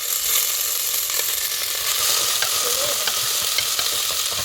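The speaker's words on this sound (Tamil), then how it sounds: "அதான் இப்போ நம்ம வெட்டி வச்ச வெங்காயத்தை சேர்த்துக்கலாம். அதோட 10 பல் பூண்டையும் கருவேப்பிள்ளையையும் சேர்த்துக்கலாம்." Chopped onions, ten garlic cloves and curry leaves frying in a pan for a fish curry, a steady close sizzle with occasional stirring scrapes and no talk.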